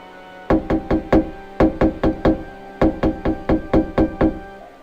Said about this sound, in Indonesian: Ketukan itu terhenti sebentar. Tidak lama kemudian, terdengar kembali dengan lebih cepat.